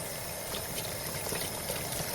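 Steady, close stream of running water rinsing shampoo out of a wig into a plugged sink basin, a continuous broadband splashing wash with no talk.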